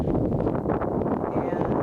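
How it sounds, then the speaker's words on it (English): Strong wind buffets the microphone outdoors on an Oklahoma property, making a constant low, rumbling roar with no pauses. "now that the wind has picked up again"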